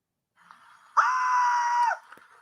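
A man screams while fleeing an alligator attack: a single loud, sustained shriek of about one second, with faint noise before and after.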